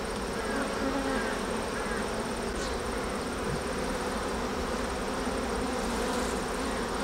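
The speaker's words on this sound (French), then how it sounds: "Il y a beaucoup de circulation d'abeilles." Dense, continuous buzzing of many honeybees around an open hive, close by, steady and loud throughout with no talking.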